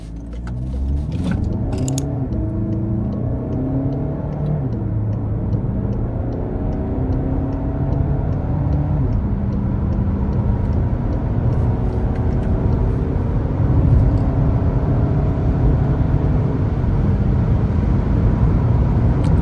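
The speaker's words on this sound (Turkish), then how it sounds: "Bir de sizler için 0-100 denemesi yapacağız." A 2.0 diesel Volkswagen Tiguan 4Motion SUV in sport mode accelerates 0-100, pulling hard and steadily for a long stretch, its low droning pitch climbing and dropping through gear changes, loud and close.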